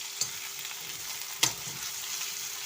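Sliced onions sizzle in a hot pan under constant stirring, a steady close hiss marked by a couple of sharp spoon clicks against the pan.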